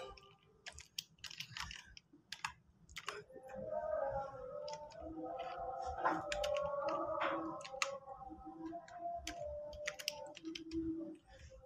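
A computer keyboard gives off quick, light clicking keystrokes in irregular bursts, faint and close, while tonal background sound and brief bits of speech run underneath.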